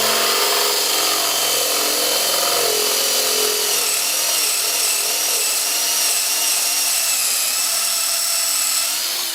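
A freshly ground twist drill bores through metal at a 30 to 45 degree angle, giving a steady, loud, high-pitched grinding whine that holds for the whole stretch without pause.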